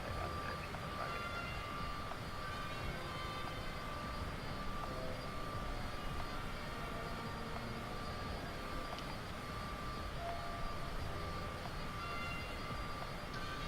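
Jet aircraft taking off from runway 25 in a flight simulator, a steady, even engine roar and whine held at constant level throughout with no voices.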